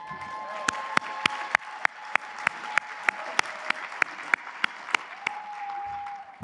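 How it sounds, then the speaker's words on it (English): A sparse audience at a college scholarship gala claps in an auditorium, individual hand claps ringing out sharply and steadily for several seconds under a faint held tone. "I want everyone to give a round of applause to Max Langley"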